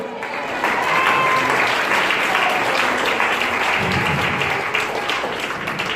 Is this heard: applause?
yes